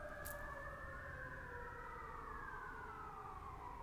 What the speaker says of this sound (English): There was an ambulance in the background